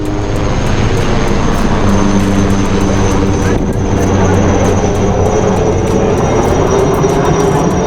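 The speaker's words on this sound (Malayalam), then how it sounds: "നമുക്ക് മുകളിലൂടെ ഒരു ഹെലികോപ്റ്റർ ഇങ്ങനെ പാഞ്ഞു പോകുന്നുണ്ട്" A helicopter roars overhead along Marine Drive in Kochi, its loud engine drone layered with a rapid, rhythmic rotor chop throughout.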